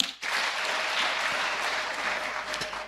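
A church congregation at an Anglican church anniversary service claps loudly and steadily, a dense, even burst of applause lasting the whole moment with no talking over it.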